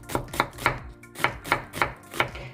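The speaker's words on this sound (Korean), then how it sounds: "양파 3분의 1개를 잘게 썰어주세요." A third of an onion is finely chopped with a knife on a board for a pork neck dish: quick, crisp knife strikes fall in short bursts of about three, close and clear, with no talking.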